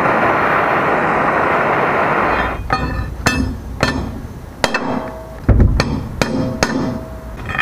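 Metal hammer blows ring out on a bent driveline part from a Crown Victoria, about a dozen sharp, close clanging strikes in irregular rhythm after a stretch of steady background noise.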